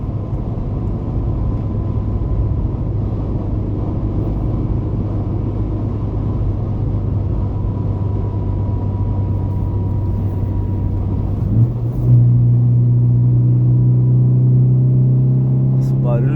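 A Ford Focus fitted with twin throttle bodies drones steadily under acceleration, a loud low engine rumble that swells into a stronger tone near the end, with someone talking over it.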